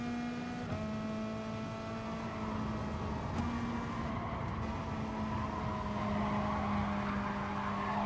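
Race cars, a Mercedes and a Toyota, racing in Gran Turismo Sport: a steady engine whine drops in pitch as a gear changes, with a continuous rushing road noise at moderate volume and no voices.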